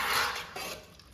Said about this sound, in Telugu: కలుపు సాంబార్ని ఒకసారి